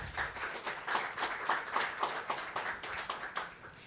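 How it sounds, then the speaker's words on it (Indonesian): A small audience claps at a book launch, the claps coming as distinct, fairly quiet bursts in an irregular rhythm rather than a dense roar, with no voices over them. "Boleh kita berikan tepuk tangan yang paling meriah?"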